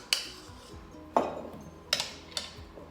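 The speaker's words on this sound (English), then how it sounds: "Let me get another spoon here" A few sharp, bright clinks of a spoon against a bowl while mini cheesecake batter is folded, four isolated taps spaced irregularly over a quiet background.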